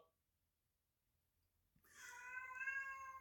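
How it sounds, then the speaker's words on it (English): A pet cat gives a single drawn-out meow that starts abruptly after near silence and rises to a fairly loud, close, wavering cry. "That's my cat, y'all."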